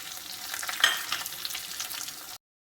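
Sliced onions sauté in hot oil with curry leaves for a fish curry in coconut milk, a close, steady sizzle with stirring scrapes, cutting off abruptly near the end.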